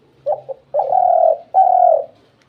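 A pet pigeon or dove from across the Padma gives a close, clear call: two short soft notes followed by two longer, drawn-out coos, alone in a quiet room.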